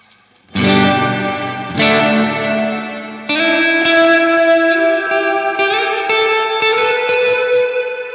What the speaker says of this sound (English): The hall reverb.